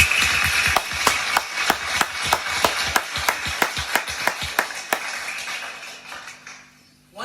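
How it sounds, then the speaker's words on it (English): An audience at a Kangen water presentation in Dubai claps in unison, a steady run of sharp, close claps at about two per second that thins out and fades near the end. "Let's give those people a round of applause."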